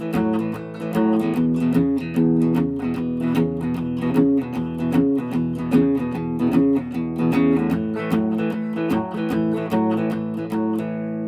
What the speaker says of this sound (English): blues rhythm part with more of a country feel and a country kind of backbeat to it